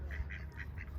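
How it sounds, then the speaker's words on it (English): A run of about five honking goose calls in a lakeside park at a steady, moderate distance, repeating every fraction of a second over a low background rumble. "Lots of geese."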